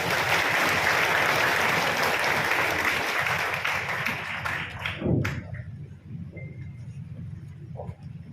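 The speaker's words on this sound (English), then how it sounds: "Ladies and gentlemen, a warm round of applause for Miss Robeline M. Valerio." An audience at a school moving-up ceremony applauds warmly for several seconds, a dense wash of clapping that gradually thins out and fades to scattered claps.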